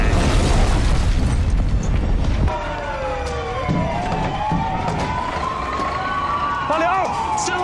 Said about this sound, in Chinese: 南湾港发生爆炸，引发火灾。